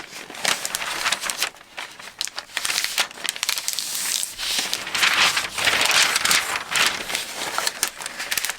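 Tissue paper crinkles and rustles continuously as it is folded for packing an order, with dense close-up crackling that swells and dips without a break.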